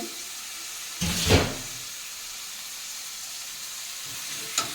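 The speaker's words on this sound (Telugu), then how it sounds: "ఉల్లిపాయలు అయితే బాగా వేగినాయి. టమాటాలు, బెండకాయలు వేసేస్తున్నాను." Okra and tomatoes going into a pan of fried onions and green chilies, giving a burst of sizzling as they hit the oil, then a steady low frying hiss, with another brief clatter at the end.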